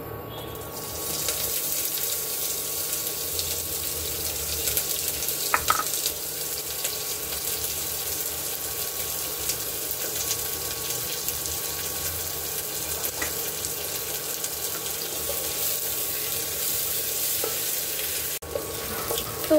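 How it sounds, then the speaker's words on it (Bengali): Onions frying in a pan with whole garam masala, a steady broadband sizzle with faint stirring scrapes running evenly throughout, no voices. "এখানে পেঁয়াজগুলো ভাজা হচ্ছে। পেঁয়াজগুলোর মধ্যে আমি দিয়ে দিয়েছি হচ্ছে সুন্দর গরম মশলা"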